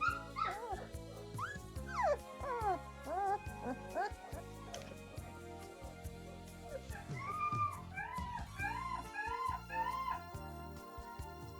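A tiny two-pound Great DaNoodle puppy whimpers and yips in repeated high fussy cries, close and intermittent, while someone talks softly over it.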